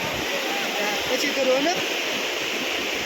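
Ice-cold glacial meltwater stream near the Amarnath cave in the Himalayas, a steady broad roar of rushing water throughout, with a faint voice briefly rising over it.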